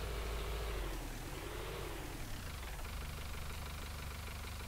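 A tractor engine idles in a rice field being prepared into paddies, a loud steady mechanical drone close by, its pitch dipping and swelling briefly before it settles into an even throb.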